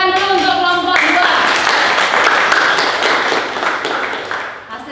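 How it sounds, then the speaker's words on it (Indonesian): A classroom of students claps for a presentation group, with a burst of close, lively clapping following a brief voice, tapering off toward the end. "Sebelumnya kita berikan tepuk tangan dulu untuk kelompok 2."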